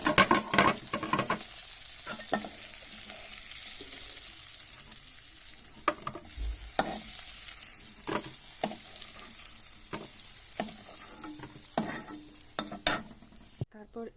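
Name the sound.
frying and stirring dried fish in oil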